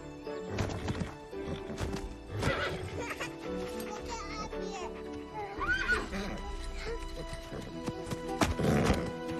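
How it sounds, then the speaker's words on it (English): Horses in a corral whinny loudly several times, with hooves clopping and a child and other people talking nearby. "I see the horsey."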